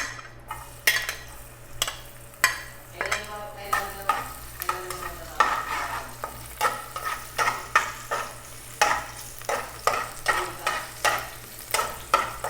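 Garlic fries in a hot pan for chicken adobo, a continuous sizzle punctuated by regular, close scraping clinks of a utensil stirring against the pan over a low background hum.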